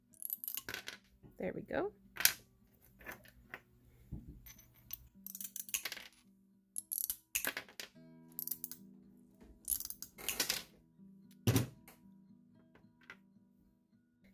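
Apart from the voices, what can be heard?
tile nippers chunking fused glass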